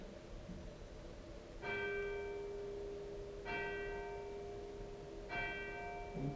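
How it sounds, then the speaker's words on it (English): A bell rings out three times at even intervals inside Chillingham Castle, each clear ringing tone fading slowly over a faint, steady background hum. "The bell. I should explain that."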